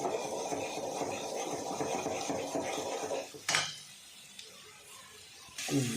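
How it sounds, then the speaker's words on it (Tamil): Egg frying with dried fish (masi karuvadu) is stirred in a pan, giving a steady close scraping and sizzling texture for a few seconds, then a sharp utensil knock and quieter pan sounds, no talking. "இப்போ நடுவில் இதை கிண்டிக்கிட்டே இருக்கணும்."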